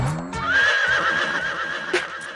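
A horse lets out a loud, close neigh, a long wavering whinny that holds steady before a brief snort near the end, with no voices over it.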